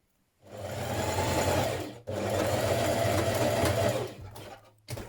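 A sewing machine stitches pieces of a Simplicity 8875 summer dress in two steady, close runs separated by a brief pause, then stops.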